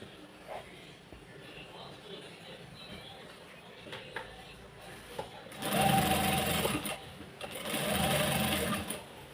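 Sewing machine stitching along a saree hem, with two loud sustained bursts of running motor and needle in the latter half after quieter handling sounds.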